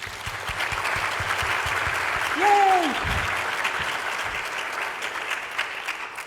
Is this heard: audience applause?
yes